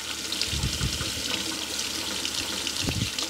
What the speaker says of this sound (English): I'm just going to hold them under running water here for a while